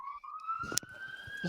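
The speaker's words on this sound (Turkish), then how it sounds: "Ambulans geçiyor." An ambulance siren passing outside, a wailing tone that dips then rises slowly, faint and distant behind a few soft clicks and background noise.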